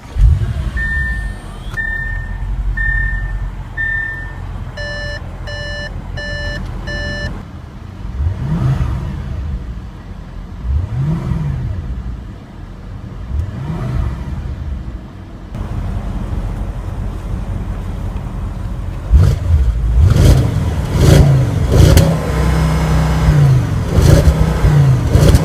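A 2014 Audi S6 Quattro with S tronic transmission fires up after a short run of chimes, settles to idle, then gives several sharp blips of revving before a longer, louder rev near the end.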